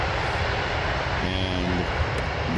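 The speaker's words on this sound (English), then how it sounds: "the A321 KLM going over to France" A KLM Airbus A321 passes over near Amsterdam airport, a steady roaring engine drone with a brief rising whine partway through, heard alone at moderate distance.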